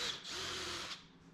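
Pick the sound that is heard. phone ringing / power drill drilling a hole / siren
power drill drilling a hole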